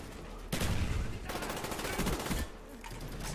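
Loud, sustained automatic rifle fire in the video game Black Ops, breaking into rapid bursts that run almost continuously before stopping near the end.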